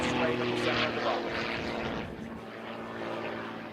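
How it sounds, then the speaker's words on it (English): Aerobatic propeller airplane flying maneuvers such as a hammerhead turn at a national aerobatics competition, its engine droning loudly and shifting pitch at a distance. "He is hanging it on the prop now with a hammerhead turn into the wind."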